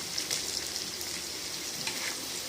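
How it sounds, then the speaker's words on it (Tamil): Continuous sizzling of onions sautéing in hot oil, a soft steady crackle with faint stirring. "வெங்காயம் போட்டு நம்ம வதக்கிக்கிட்டு இருக்கோம்"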